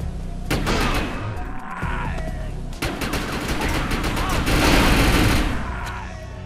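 Rapid-fire weapons blasting acid rounds in the shooter Defiance, dense bursts of close, loud gunfire in quick staccato runs with brief breaks, continuing almost nonstop.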